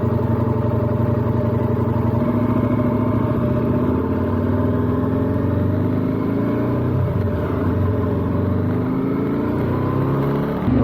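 A KTM 1290 Super Adventure S motorcycle cruises at highway speed, its engine droning steadily and loudly with a constant low rumble and wind rush throughout, with slight shifts in pitch as it holds pace.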